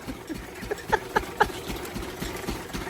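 A tractor engine runs at idle nearby with an even, thumping low pulse. A few brighter knocks rise over the steady rumble in the middle stretch. No speech.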